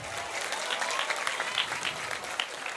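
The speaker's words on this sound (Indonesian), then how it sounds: "Tepuk tangan dulu untuk panitianya" Applause for the organizing committee at a Maulid Nabi gathering in a prayer hall, a dense, steady wash of many hands clapping together for several seconds.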